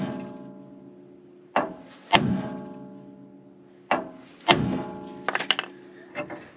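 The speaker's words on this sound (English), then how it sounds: "I'm going to give it some firm blows right here on the side of the steering arm, and it should release this" Firm hammer blows strike the steel steering arm of a 2WD Ford F150 truck to free the tie rod end, several loud, ringing metallic hits with gaps between, then a quick cluster of lighter taps.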